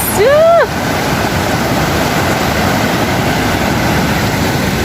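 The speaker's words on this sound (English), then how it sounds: "The waterfall." Steady roar of a waterfall in the middle of the Okavango River, loud and continuous, with a brief bird chirp at the start.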